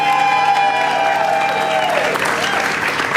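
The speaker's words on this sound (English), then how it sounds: "clap for the film you want to see go on to the final act here" Audience clapping for a film at a live showdown screening event, a dense, steady wash of applause with some crowd noise, loud and continuous throughout, with a sustained tone fading beneath it.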